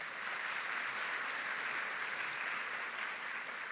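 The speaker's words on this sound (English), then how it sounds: "Let's give them a round of applause as well" Steady, sustained applause from an audience at a school district State of the District address, welcoming county council representatives. The clapping is dense and even throughout, with no voices over it.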